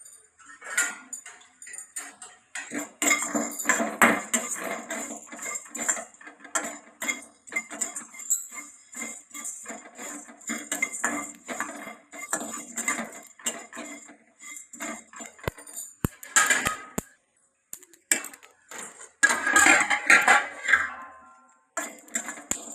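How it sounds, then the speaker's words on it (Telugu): Dry coriander seeds tossed and stirred in a dry pan (kadai) with a spoon, giving rapid clinking and scraping against the metal, fairly close and steady throughout, with no talk. "సరిపడినంత ధనియాలు తీసుకోవాలి. అవి కొంచెం వేగించుకోవాలి."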